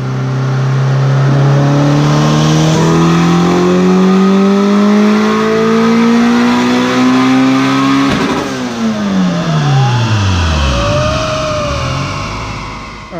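A turbo GSR-swapped Honda Civic on a dyno, engine revving hard and climbing steadily in pitch for about eight seconds, then cutting off and winding down with turbo whistles, loud and close.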